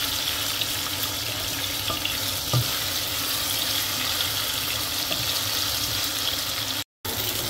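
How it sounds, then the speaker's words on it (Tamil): Boiled moringa drumstick pieces fry lightly in a little oil for a Sri Lankan Mannar-style curry, giving a steady, even sizzling hiss that runs on without pause and with no voices. "லைட்டாக பொறிச்சு எடுக்கணும்."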